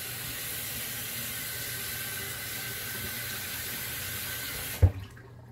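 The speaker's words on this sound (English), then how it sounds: "Then I'll wash my hand off." Running tap water pouring steadily into a sink while a hand is washed, a constant close hiss and splash that stops abruptly with a soft knock near the end, leaving quiet.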